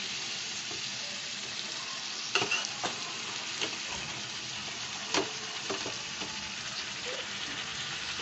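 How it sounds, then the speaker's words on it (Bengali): Chicken stir-fried in a pan with spices for chicken dak bungalow, a steady loud sizzle throughout with occasional scraping clinks of a spatula stirring, close up and without talk. "সবটা চিকেনে দিয়ে কষে নেব।"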